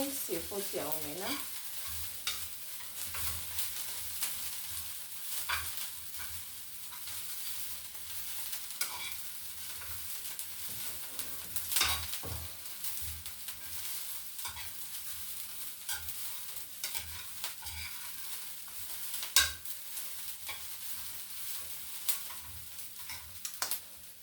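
Omena (silver fish) frying in a pan with green pepper in Kenyan home cooking, a steady crackling sizzle with intermittent stirring scrapes throughout, close and moderately loud, no talking.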